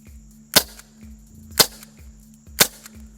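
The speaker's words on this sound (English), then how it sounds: "I'm going to take 3 shots downrange right now and another magazine that I have loaded up" Three sharp, loud shots from an Umarex Glock 19 CO2 pistol fired downrange, evenly spaced about a second apart, each a crisp close crack with a short tail and no talking.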